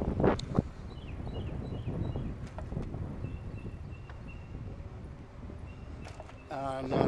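Wind rushes past a cyclist riding on a hot spring day, a steady breathy roar across the whole stretch, with faint clicks and rattles of the bicycle mixed in and a louder gust at the end.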